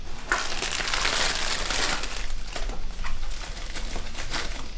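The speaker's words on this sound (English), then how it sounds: "unwrap another one." A piston is unwrapped from its packaging during engine building, with close, loud crinkling and crushing of wrapping material that runs continuously and tapers into a few softer rustles.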